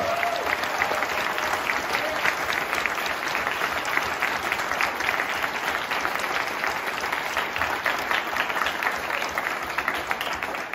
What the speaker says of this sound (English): let's give these fine students another round of applause